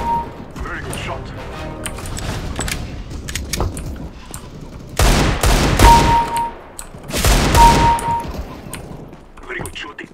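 Desert Eagle pistol shots in a CS:GO deathmatch on Dust II, a mix of sharp single cracks and two dense bursts of rapid gunfire with metallic clinks, loud and close.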